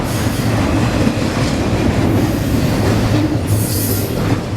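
A long Norfolk Southern freight train rolls past close by, a loud steady rumble of wheels on rail with clickety-clack and occasional squeal, dominating without any talking.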